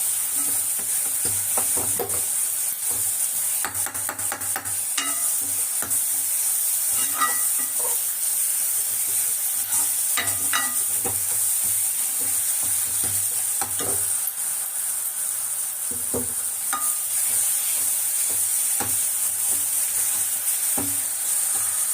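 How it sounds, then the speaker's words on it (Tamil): Chopped tomatoes for a white kurma sauté in a hot pan, giving a steady, even sizzle with occasional clinks and scrapes of stirring scattered throughout. "தக்காளி கொஞ்சம் நல்லா சீக்கிரம் வதங்கும்"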